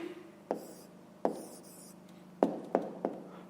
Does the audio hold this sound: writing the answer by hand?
yes